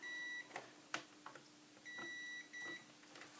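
A multimeter continuity test on a Tevo Tarantula power supply, earth to case, gives steady high beeps in a few bursts, broken by soft clicks and taps of the probes, quiet and close with no talking.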